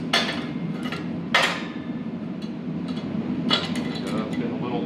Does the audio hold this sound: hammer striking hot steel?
yes